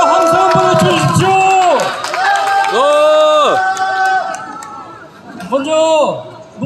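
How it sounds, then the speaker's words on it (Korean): A street rally crowd calling for a presidential impeachment raises a loud collective shout, rising and falling in several long, chant-like waves with voices blending together outdoors. "전방을 향하여 함성 한번 외쳐주십시오."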